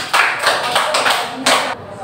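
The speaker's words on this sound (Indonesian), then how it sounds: "Baik, beri tepuk tangan." Students in a classroom clap their hands together in a quick, lively burst of applause that swells, eases briefly, then rises again before stopping. The clapping is close and bright.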